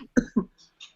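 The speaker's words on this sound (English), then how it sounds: "Coughing my brains out after that last rip" A couple of short, sharp coughs in quick succession, close and fairly loud, followed by faint breathy sounds.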